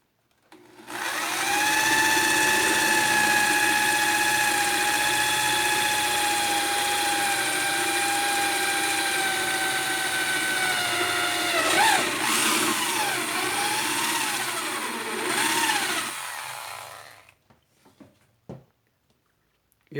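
A power drill boring a starter hole in a marked reference point for a jigsaw blade while building a 3D printer frame, one steady high whine for about fifteen seconds, close and loud, ending with a few clatters and silence.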